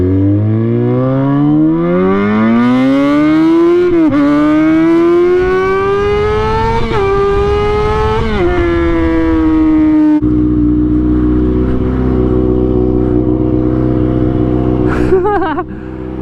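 A Kawasaki ZX-6R motorcycle fitted with a truck stack exhaust revs loudly and close. The engine pitch climbs in repeated long pulls, then drops back to a rough, throaty idle.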